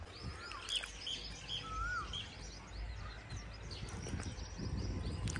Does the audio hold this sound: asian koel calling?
yes